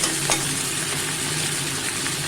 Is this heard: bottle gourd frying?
yes